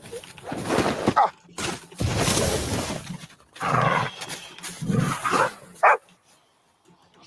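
A dog barks in several loud, close bursts with short gaps between them, ending in a sharp final bark before near silence.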